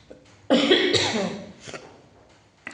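A single harsh, loud cough bursts out close by, trailing into a rough exhale, followed by quiet.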